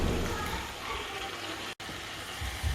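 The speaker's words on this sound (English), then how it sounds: "we'll introduce some water" Water pours and gushes in a continuous rush into a pan of vegetable paella, loud and close, with a brief cut near the middle before the flow resumes.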